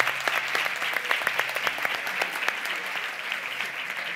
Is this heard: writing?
no